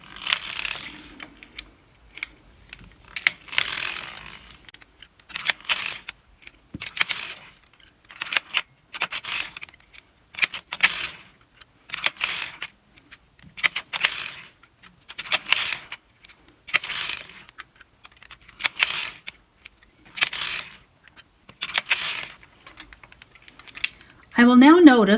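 A circular sock knitting machine being worked needle by needle to form a heel, giving repeated short metallic clacks and rattles in an irregular rhythm, close and fairly crisp.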